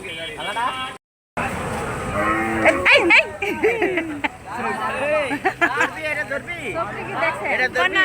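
Cattle at a busy livestock market ahead of Qurbani, with moos rising among lively crowd chatter and nearby voices talking throughout.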